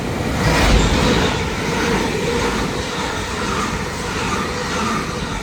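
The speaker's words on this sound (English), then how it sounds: "passing through now is a double, or duo should I say, of 387s en route from Peterborough to London King's Cross" A pair of coupled Class 387 electric multiple units runs through Alexandra Palace station on the East Coast Main Line, heading from Peterborough to London King's Cross. The rumble and rail noise of the passing train are steady and loud throughout, with no talk over them.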